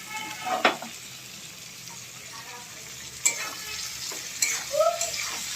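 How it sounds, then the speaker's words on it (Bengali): Beans, carrot, capsicum and onion frying for chowmein: a steady low sizzle in the pan with occasional spatula scrapes and clinks, close and fairly quiet. "বিনস গাজর দেওয়ার পরে ক্যাপসিকাম আর পেঁয়াজ দিলাম, এটাও ভেজে নেব একটু"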